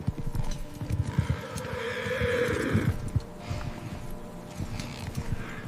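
Cavalry horses of the Hetairoi, the companion cavalry at the battle of Pydna, whinny loudly over a steady jumble of clip-clopping hooves, with the neighing swelling in the middle before the hoofbeats carry on alone.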